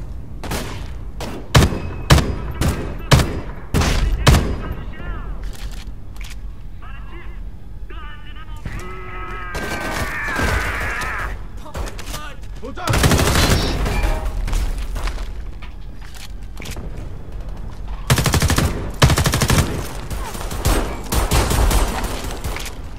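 Rapid gunfire from a recoiling weapon in the video game Homefront: The Revolution on Xbox One, with sharp shots, bursts and booms spread across the stretch and a voice talking in between.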